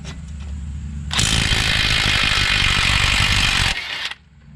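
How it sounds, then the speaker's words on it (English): Impact wrench hammers off a 21 mm strut nut on a Jeep Compass, a loud, steady rattling burst lasting about three seconds before stopping, with background hum around it. "I'm going to go ahead and put a 21 mil on an impact, and we're going to start on the nut side and start firing these off."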